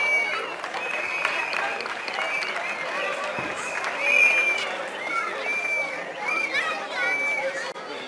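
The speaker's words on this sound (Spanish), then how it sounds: "El aplauso por ahí, por favor." Crowd applause at an outdoor 14 September civic and school event in San Sebastián Huehuetenango, steady clapping mixed with chatter and background voices, moderately loud throughout.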